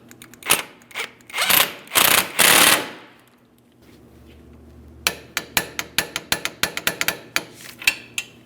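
Toe link bolt on the rear suspension of a 2005-2010 Chrysler 300 5.7L V8 being snugged, starting with loud rattling bursts from a power tool, then a pause, then a quick series of sharp ratchet clicks.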